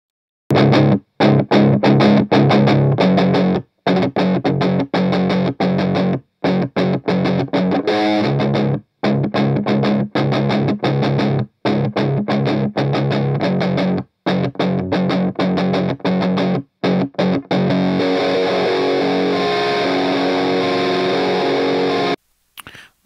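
Heavily distorted electric guitar, compressed in Cubase, plays loud chugging riffs, cut by abrupt short silences between phrases.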